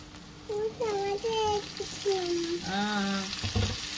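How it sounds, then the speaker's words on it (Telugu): Tomatoes frying with drumsticks (munakkaya) in a pan for a curry: a steady sizzle runs underneath while voices chatter over it in a home kitchen. "టమాటాస్ మంచిగా ఫ్రై కావాలి కదా నాన్న"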